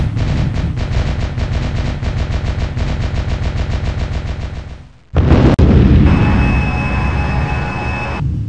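Bombs burst on a dock warehouse in the EF2000 Eurofighter Typhoon flight game, a rapid rattling string of blasts for about five seconds, then after a short gap a heavy boom and a sustained roaring rumble.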